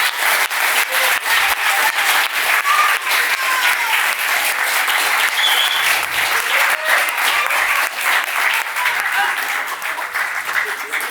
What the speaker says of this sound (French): on peut quand même vous applaudir bien fort tous les deux.